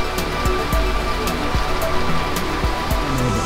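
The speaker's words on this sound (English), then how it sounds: "right now we're just gonna stay hunkered down and watch this rain water my grass." Heavy rain from Hurricane Delta pours steadily in a wash of dense hiss, with repeated dull thumps and splashes of water landing close by.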